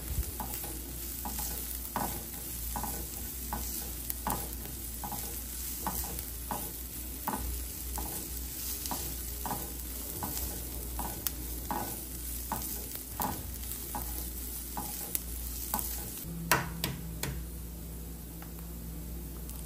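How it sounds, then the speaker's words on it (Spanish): Green beans tossed with onion in a frying pan, a steady sizzle under repeated scraping stirs at a fairly even rhythm throughout, close and alone with no voices. "Después voy a agregar los ejotes y los voy a mover para que se mezclen con la cebolla y"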